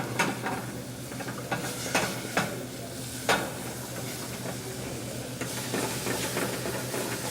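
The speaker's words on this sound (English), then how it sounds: "now we deglaze it with white wine" White wine poured into a hot pan for deglazing a thick soup, giving a steady close sizzle and hiss with a few sharp scraping clinks of a utensil against the pan.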